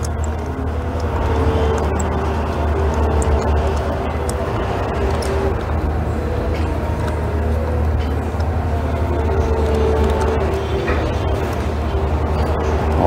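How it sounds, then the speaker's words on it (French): A fairground operating right outside a home gives a steady, dense wash of distant noise, low rumble and faint tonal hum that carries on unbroken throughout. "le bruit que vous entendez là, c'est parce qu'il y a la fête foraine à côté"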